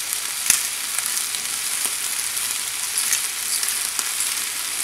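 Tomatoes tumble into a frying pan with kale, setting off a bright, continuous sizzle and crackle with a few sharper pops, heard alone without any talking.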